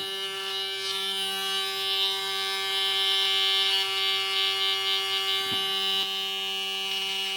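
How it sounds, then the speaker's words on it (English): A Laifen T1 Pro electric shaver fitted with its closer-shave blade runs continuously up close, giving a loud, steady, high-pitched buzzing whine that varies slightly as it moves over stubble, with no talking. "So now I'm gonna take the closer shave blade"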